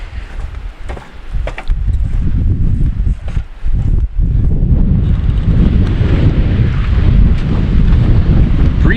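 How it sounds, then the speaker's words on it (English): Strong wind gusting across an open bog at Big Bog Recreation Area by Upper Red Lake, northern Minnesota, buffeting the microphone in loud rumbling bursts that build and stay heavy throughout, with no talking. "Breezy day though."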